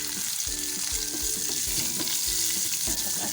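Green chillies and a tablespoon of kasuri methi sizzle steadily in hot oil for a tempering, with a continuous loud crackle and occasional stirring thumps throughout.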